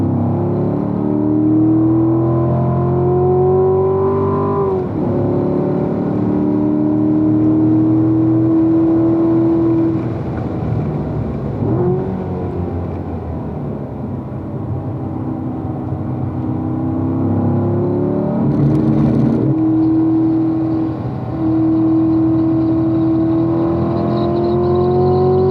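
A vehicle engine is held under throttle, a loud continuous drone whose pitch rises and falls as the revs climb and settle, with no voices over it.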